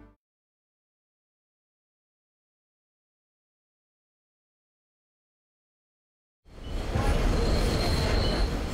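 A subway train rolls by on steel rails at about 40 miles an hour. After a long stretch of silence, a loud, close roar of rumbling wheels and rattling cars bursts in and holds steady to the end.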